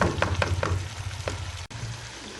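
Blended tomatoes sizzle and fry in a pan for a dhaba-style chicken karahi, a steady close sizzle with a few sharp crackles and a brief stirring clatter, no voices.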